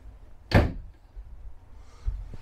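A cabinet door on the storage compartment under the bathroom sink of a 2022 Reflection 150 Series 260RD RV swings shut with a single sharp close knock, followed by a softer bump near the end, heard up close without talking.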